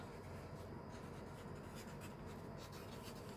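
A pen scratches steadily across packaging cardboard while marking a back flap, a close, quiet, continuous scribbling with no talk.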